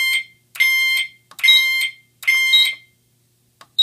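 A Cerberus Pyrotronics fire alarm system chime sounds in repeated bright, ringing bursts, each about half a second long with gaps between them. It plays close and clear with no voices over it.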